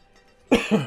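A single close, sharp cough bursts out of near silence, followed by a brief second catch of breath.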